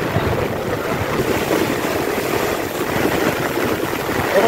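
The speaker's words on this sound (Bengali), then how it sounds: "বিদ্যা নদীর ঢেউটা দেখুন কি হারে চলছে।" Strong waves on the Bidya river churned up by Cyclone Remal winds, a continuous loud rushing wash with heavy wind buffeting the microphone throughout, no voices.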